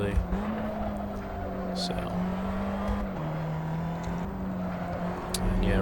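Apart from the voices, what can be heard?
race car driving fast in Assetto Corsa video game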